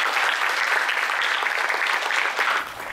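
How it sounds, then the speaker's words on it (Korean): Audience applause welcoming a professor to the stage at a Korean book-talk lecture, a steady dense clapping crowd that fills the room and fades slightly at the end. "서영 교수님을 큰 박수로 모시겠습니다."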